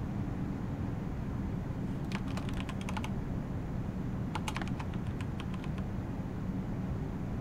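Keyboard typing on its own in the horror game Amanda the Adventurer, two quick bursts of crisp key clicks about two seconds apart, over a steady low rumbling background drone.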